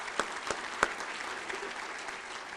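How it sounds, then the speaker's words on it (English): An audience applauds a speaker at a talk on a prescription drug monitoring program, a soft, steady wash of clapping with a few sharper individual claps standing out near the start, fairly quiet and distant. "just give him a hand clap"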